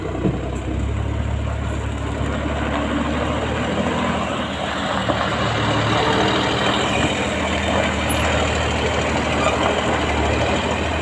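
A Giga 12-wheel truck reverses while hauling a backhoe, its heavy diesel engine rumbling low and steady at close range with a constant grinding drone, and no voices over it.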